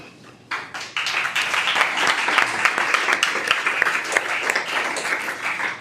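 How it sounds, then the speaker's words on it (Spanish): A conference audience at a Japanese culture event applauds a novel presentation, with sustained dense clapping that swells after a brief start and carries on evenly for several seconds, moderately loud and close. "Me voy a poner celoso, Juanfra, porque a ti te han aplaudido y a mí no"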